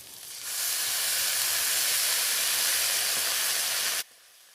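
Ginger garlic paste drops into hot oil and fries with a loud, steady sizzle that starts abruptly, holds evenly for several seconds, then cuts off, close and without voices.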